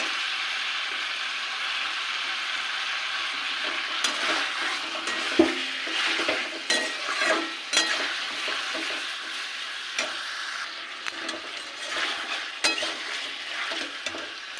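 Chopped tomato going into frying chicken curry, a steady close sizzle with irregular scraping and stirring clatter of a utensil against the pan throughout, no voices.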